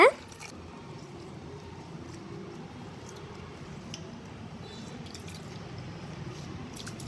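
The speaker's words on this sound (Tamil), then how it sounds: "இப்போது ரைஸில் தண்ணி சேர்த்து நல்லா வாஷ் பண்ணிக்கோங்க." Rice being rinsed in water by hand in a vessel, with continuous close sloshing, swishing and dripping sounds throughout at an even level.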